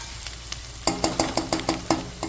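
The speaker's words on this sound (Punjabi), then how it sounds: "ਅਜੇ ਆਪਾਂ ਹੋਰ ਥੋੜਾ ਜਿਹਾ ਇਹਨੂੰ ਭੁੰਨਣ ਦਵਾਂਗੇ ਮਸਾਲੇ ਨੂੰ" Masala spices roasting in a pan for aloo gobhi, with a soft background sizzle broken by a series of regular, close scraping stirs, about one every third of a second.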